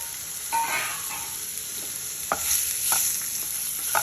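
Ridge gourd sautéing in oil in a pan, a constant soft sizzle with occasional sharp scrapes and taps from a spoon stirring the pieces, close and moderately loud.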